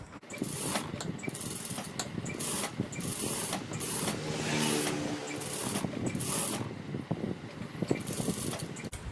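A sewing machine stitches a boat-neck blouse with a close, continuous mechanical clatter and whir, its ticking rhythm shifting slightly as it runs.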